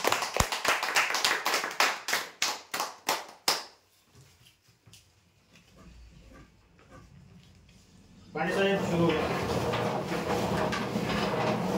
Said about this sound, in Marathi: जोरदार टाळ्या होत्या यांसाठी